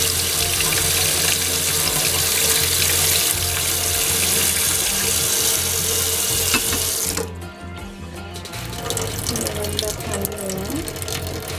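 Tap water runs steadily into a sink to rinse mung beans, a dense hiss that dips and thins for a moment partway through before picking back up, with no voices over it.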